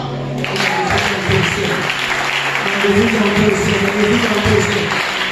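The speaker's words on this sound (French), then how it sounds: "Acclame." A church congregation applauds and cheers at a rebel-church sermon, a steady wash of clapping filling the whole stretch with voices mixed in.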